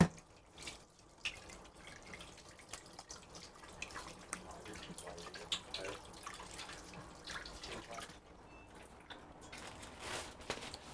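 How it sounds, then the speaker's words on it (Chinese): Running water from a kitchen tap splashes over hands being washed during cooking, a faint, uneven trickle and patter with small splashes throughout. "就咁樣先啦，我就洗一洗隻手。"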